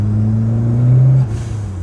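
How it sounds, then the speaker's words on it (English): A 1988 Ford Escort RS Turbo engine drones loudly under boost, then abruptly drops off as the dump valve releases around the one-and-a-quarter second mark, leaving a lower idle-like rumble. "when it boosted like that and then the dump valve kicked in"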